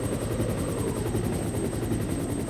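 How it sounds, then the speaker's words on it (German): A helicopter in the video game Resident Evil 1 Director's Cut, its loud rotor chop and engine roar running continuously and close, filling the whole stretch with a dense, steady pulsing drone. "Oh, wir hören Hubschraubergeräusche"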